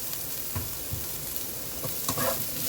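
Garlic and onion fry in oil already flavored by beef, for ampalaya con carne: a steady, close sizzle with a few soft utensil scrapes now and then.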